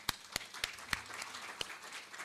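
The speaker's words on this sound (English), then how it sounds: "Please join me in a round of applause to express our collective gratitude to our team." A small audience at an industry technology-transfer ceremony claps, a few distinct sharp claps at first giving way to thin, faint scattered applause in a quiet room.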